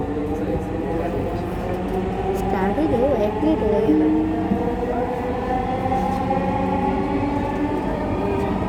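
Dhaka metro rail train bound for Uttara North running between stations, a steady loud rumble and rattle of the car with some jolting, a brief tonal whine in the middle, and a voice speaking briefly over it.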